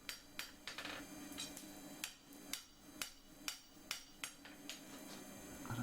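Repeated sharp hammer blows ring out on a steel bar end, flattening it into an even taper for a scroll, struck at a steady irregular pace, about a dozen close, bright metallic impacts with no voices.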